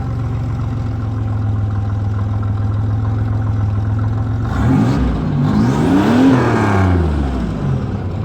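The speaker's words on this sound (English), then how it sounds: "see if I can get you some sound of the exhaust here." A 1987 Buick Regal Turbo Limited T idles with a steady low drone from its exhaust, then the engine is revved in two rising and falling swells before settling back, close and loud.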